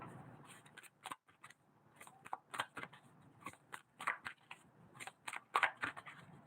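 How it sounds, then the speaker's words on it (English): Crisp, rapid riffling and slapping of tarot cards being shuffled, in short bursts with brief pauses, close and fairly quiet. "Let me shuffle you up, Miss Michelle."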